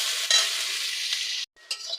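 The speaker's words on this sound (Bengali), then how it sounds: "দিয়ে এবার পেঁয়াজ ক্যাপসিকামটা ভালো করে আমি ভেজে নেব।" Onion and capsicum frying and being stirred in a pan: a steady loud sizzle with scraping stir sounds, briefly cutting out near the end before resuming more softly.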